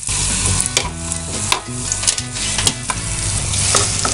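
Small red onions frying in ghee for thari kanji, a loud, close sizzle and crackle with scraping stirs and sharp pops throughout, no voices.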